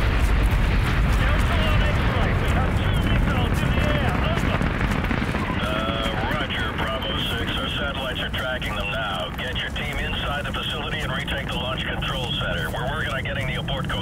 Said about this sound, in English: Delta 1 looks like we have a missile launch.